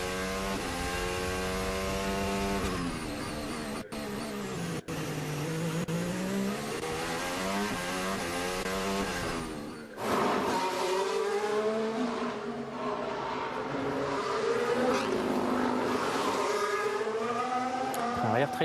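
A Mercedes Formula 1 car's high-pitched engine screams through gear changes and throttle blips during Azerbaijan Grand Prix practice on a street circuit, with rising and falling pitch sweeps and commentary talk underneath.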